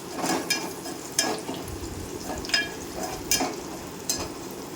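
Dal tempering (tadka) with asafoetida and a dried red chilli sizzles in hot oil, close and steady, while a spoon stirs and scrapes the pan about once a second. No one speaks.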